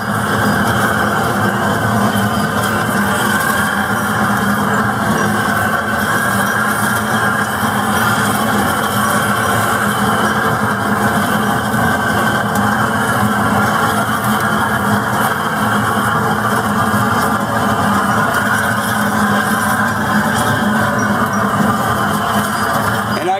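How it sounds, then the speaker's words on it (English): Blowtorch on a low setting roaring steadily to light wood splits in a Shirley 24 x 50 offset smoker, a continuous close, loud hiss with no pauses. "The blowtorch on pretty much the lowest setting, but I'm just blowing it."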